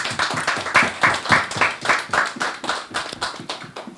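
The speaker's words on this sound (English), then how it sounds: "Give them a round of applause, please." A press conference audience gives a round of applause at the Emancipation Festival 2017 launch, a steady, fairly close patter of many hands clapping throughout with no voices over it.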